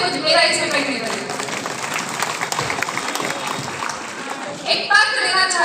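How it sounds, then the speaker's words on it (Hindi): Audience applause fills the room for several seconds, dense, steady and loud, with a voice briefly rising over the clapping near the end. "एक बार जोरदार तालियों से मानस बना लीजिए और यहाँ रहने दीजिए।"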